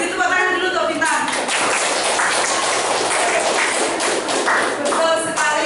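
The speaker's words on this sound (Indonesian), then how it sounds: "Oke, beri tepuk tangan dulu untuk Bintang." A classroom of students claps for a classmate, a dense, loud patter of many hands that continues throughout, with voices mixed in underneath.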